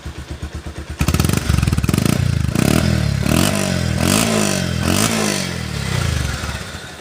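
A Bajaj Pulsar motorcycle engine idles with a steady pulsing thump, then revs up loud and close into a sustained throbbing roar with rising and falling throttle blips.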